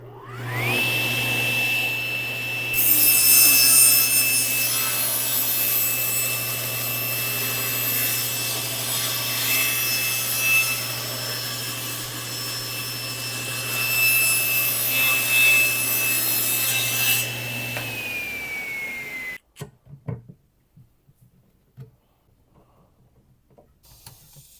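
A power saw cutting a wooden trim piece for a propane locker cabinet in a shop, a steady loud whining cut with motor hum lasting most of the clip, then winding down and stopping, followed by faint handling clatter.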